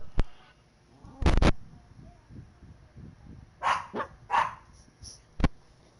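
A dog barks close by in short sharp bursts: a single bark, then a double, then a cluster of several barks with a final yip, over a faint background.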